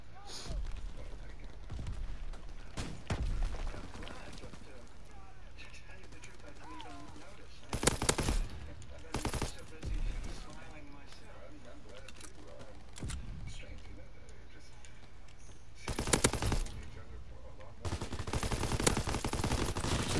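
Gunfire in Call of Duty: WWII, with several loud bursts of rapid shots separated by quieter stretches of game sound and a player talking, the final burst running to the end.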